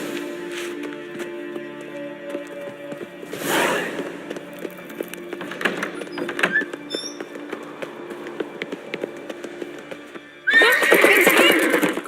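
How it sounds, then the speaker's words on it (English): Horse neighing and clip-clopping hooves in The Witcher 3 video game, with a loud whinny near the start and a louder burst of hoofbeats and snorting at the end, plus sparse game ambience between. "Grab a horse, we'll chase him down."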